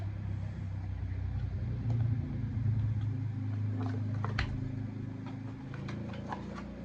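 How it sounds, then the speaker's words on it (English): Low engine rumble of a car passing outside, steady and muffled, with faint clicks and knocks scattered on top. "There's a car going by, I apologize for that."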